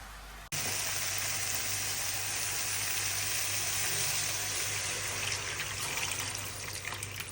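Vegetables with turmeric, chilli powder and green chilli hiss in a hot pan with a steady, close, continuous sizzle that starts abruptly and keeps going with no talking.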